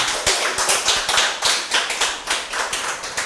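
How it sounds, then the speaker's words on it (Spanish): Audience at a talk show gives a short round of applause for a married couple, a thin, uneven patter of a few people clapping close by, with individual claps standing out. "Y un aplauso para ese matrimonio."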